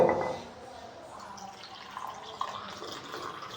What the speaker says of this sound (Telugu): హాఫ్ వాటర్ అనేది పోసుకోవాలి.